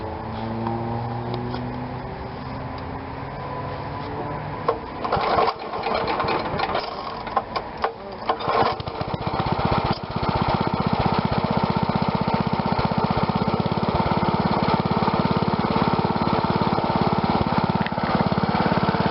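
A Troy-Bilt Horse tiller's Kohler engine, needing a carb cleaning and running on partial choke, fires from a total cold start and settles into a loud, steady, close running chatter.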